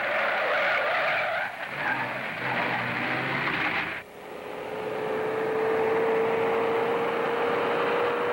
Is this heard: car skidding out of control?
yes